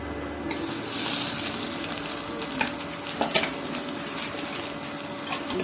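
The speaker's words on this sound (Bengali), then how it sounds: "তেল গরম হয়ে গেছে, এখন মাছগুলি দিয়ে দিই।" Half a kilo of bata fish and prawns frying in hot oil, a steady close sizzle with occasional sharper crackles and pops from the pan.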